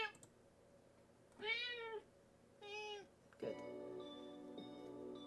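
A cat meows twice in distinct, drawn-out calls, close and clear, followed by a soft electronic tone and a low hum from a game setting; a voice speaks briefly.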